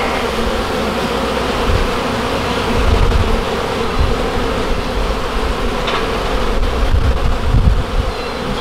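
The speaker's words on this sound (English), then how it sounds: "There's a good bit of bees on this frame." Honeybees from a hive pulled out of a trash pile buzz loud and close in a dense, continuous drone. The sound holds steady throughout, with no talking.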